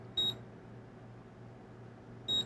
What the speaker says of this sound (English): Turn that off because it's beeping.